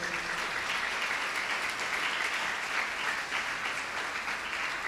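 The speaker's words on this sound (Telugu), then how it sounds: "చప్పట్లు కొట్టండి గట్టిగా." A church congregation claps loudly during a Sunday service, a dense, continuous burst of many hands applauding together, steady and close throughout.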